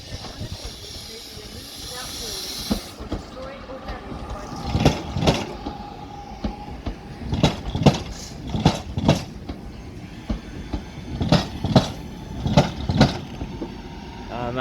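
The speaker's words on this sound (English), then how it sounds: "departing now is the 1336 Northern service to Crewe" A Northern class 323 electric train departs Manchester Piccadilly for Crewe with a loud air hiss at the start, then rhythmic clunks of wheels over rail joints repeating as it pulls away, with someone talking.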